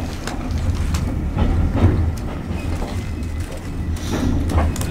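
Heritage fish and chip dining train rolling along rails, a steady low rumble with rhythmic wheel clatter and carriage creaks, heard from inside the coach with no talk.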